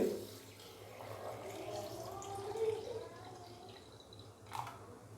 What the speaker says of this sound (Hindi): चीनी डालने के बाद अभी मैं इसके अंदर डालूंगा दूध।